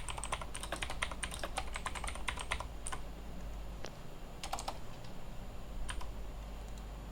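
Keys clatter on a computer keyboard as a full name is entered into a sign-up form, a quick close burst of clicks followed by sparser taps and pauses.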